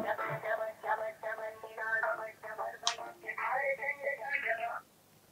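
A telephone call rings out repeatedly as a call is placed from a Telugu television advice programme; the patterned ringing tone repeats in steady bursts for about five seconds, then stops.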